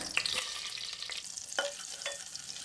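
Small crackles and pops of cumin and bay leaves frying in hot butter, with a few sharp sizzling bursts over a soft, steady background hiss.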